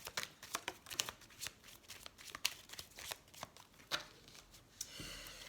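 Tarot cards being shuffled and drawn, a rapid run of crisp riffling flicks and soft slaps close by, ending with a brief settling rustle, no voices.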